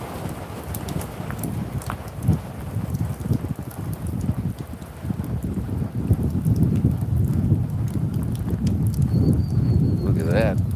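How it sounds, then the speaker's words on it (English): Light rain falling during a tornado-warned thunderstorm, a steady crackling patter with low rumbling beneath, continuous and fairly close, with faint voices and a brief thin tone near the end. "Still just a light rain."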